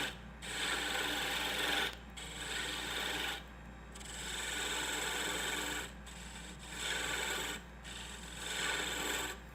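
Wooden ornament tenon being turned on a lathe, the cutting tool rasping against spinning wood in several bursts of a couple of seconds each, separated by short pauses, with a steady low motor hum underneath.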